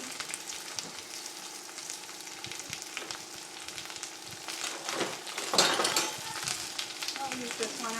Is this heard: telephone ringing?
no